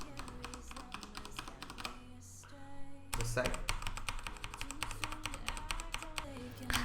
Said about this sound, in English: the STRAFE RGB mechanical Cherry MX red switches with single key press